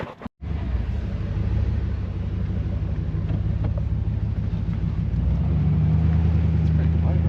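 A car's exhaust gives a steady low rumble while driving, loud and continuous after a brief pause at the start, with wind noise and road hum layered in.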